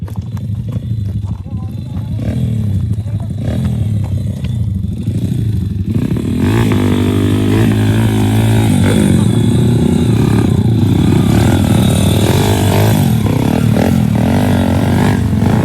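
A scooter engine revs up loudly close by, rising from a rough idle into a sustained, high-pitched whine with clattering, and people talk over it throughout.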